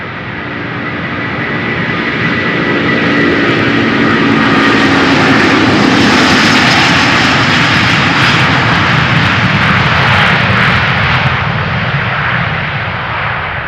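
A Delta Airbus A330-300 departs Amsterdam Schiphol as a steady, loud jet engine roar that swells and holds throughout, broad and rumbling with a rising whine, heard alone without talk.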